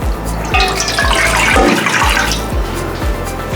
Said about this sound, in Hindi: पहले यखनी शामिल करेंगे